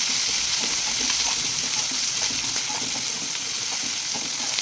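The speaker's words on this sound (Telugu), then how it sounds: "ఇప్పుడు కరివేపాకు ఇవన్నీ వేసుకొని బాగా కలుపుకోవాలి." Curry leaves fry in hot oil as they are stirred for carrot rice, giving a steady loud sizzle with crackles and light scraping throughout and no voice.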